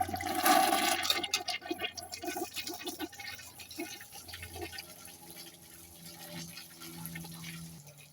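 A household toilet flushes, starting with a loud rush of water in the bowl and then fading into a steady refill trickle. There is no speech over it.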